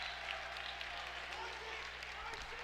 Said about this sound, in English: A very ruckus University of Jamestown crowd has traveled well tonight, and you can certainly hear them in the background.